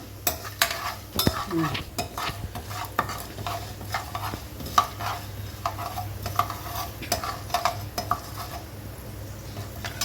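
Chana dal and urad dal fry in tempering oil under a faint sizzle, while a spoon scrapes and clinks against the pan in repeated irregular strokes, close by.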